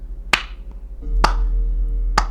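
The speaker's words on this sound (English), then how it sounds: "Mocking theatrical claps come from the direction of the warehouse." Three slow, deliberate hand claps ring out roughly a second apart near a warehouse, each sharp and fairly close, with a low steady hum underneath.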